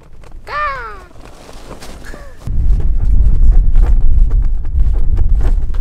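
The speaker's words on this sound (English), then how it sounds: "It's getting a little windy." Strong wind on the summit of Mt Baldy buffets the microphone with a loud, constant rumble after a brief quieter moment with a few faint calls.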